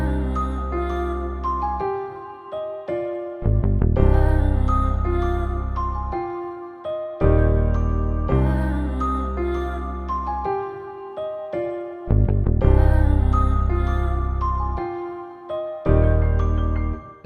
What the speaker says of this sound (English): So with the piano, the Celeste and the bass, it sounds like this.